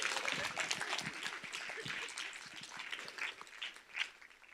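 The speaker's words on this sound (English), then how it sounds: "You everybody give Brandon a round of applause?" Applause for a speaker named Brandon during an environmental justice keynote in a hall: a fairly faint, scattered round of audience clapping with uneven swells, fading toward the end.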